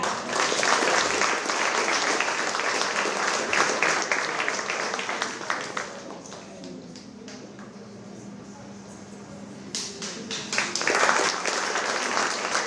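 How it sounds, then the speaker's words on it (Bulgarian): An audience applauds at a children's award ceremony for winners of contests among Bulgarian schools abroad, sustained clapping that thins out briefly in the middle and then swells again, loud and close. "Аплодисменти!"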